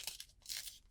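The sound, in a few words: tearing paper away along a finger-creased fold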